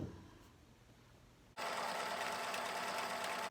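A sewing machine stitches quilt pieces for a crumb quilt, starting abruptly after a quiet moment into a loud, steady rapid whir that runs continuously to the end.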